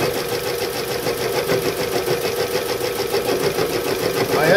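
A 12-pole, 36-slot iron axial flux permanent magnet wind turbine generator spins steadily, producing a loud, continuous mechanical whir and hum that rises slightly near the end.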